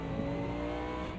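A race car in a sim racing game: a steady, loud engine drone holding a constant pitch throughout a brief stretch, with no speech.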